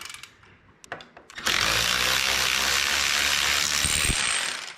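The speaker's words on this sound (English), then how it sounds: "breaker bar or something with a longer arm on it so you can get some leverage to get these things loose" A long-handled ratchet or breaker bar loosens the handlebar bolts on a Harley-Davidson Sportster. A few metal clicks and knocks come first, then a loud, sustained ratcheting buzz runs close up until near the end.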